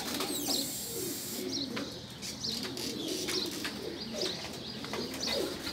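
Pigeons coo in soft repeated low calls at a Lahore pigeon flying competition, with scattered chirps and brief wing flutters over a steady outdoor background, moderately near and with no speech.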